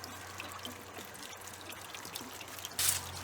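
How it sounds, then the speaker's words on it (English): Water drains from the open plug of an RV water heater while the camper is winterized, a continuous close splashing trickle with a steady hum underneath and a brief louder gush near the end. "it's a plug that I have to take out and drain the water heater"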